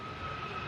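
Airliner CF56 jet engines spooling up at Manchester Airport, a steady, loud broadband roar with a thin whining tone running through it, continuous and fairly close.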